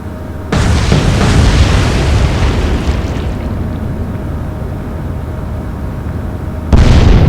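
Torpedoes strike a ship in the naval game Atlantic Fleet: a loud booming blast gives way to a long rumbling roar that slowly fades, then a second heavy explosion bursts in at the end.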